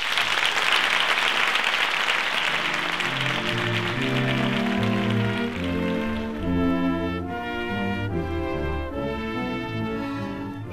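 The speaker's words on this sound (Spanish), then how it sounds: "recibamos, por favor, con un fuerte aplauso a Paloma, Sergio y María." Loud, dense applause fills the room for the first six seconds as an audience welcomes three people at a Christian-side (Bando Cristiano) festival event, then fades under swelling instrumental music.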